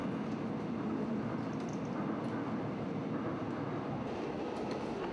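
A subway train rolls along underground with a steady, moderately quiet rumble and rattle from inside the carriage, with no talk over it.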